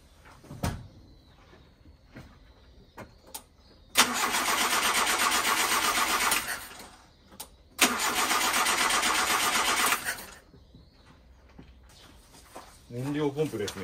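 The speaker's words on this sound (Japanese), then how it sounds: "よし、じゃあクランキングします。" A long-neglected Nissan S-Cargo, its fuel supply suspected of failing, cranks in two sustained bursts of several seconds each with quiet pauses around them, and people talk briefly between the attempts.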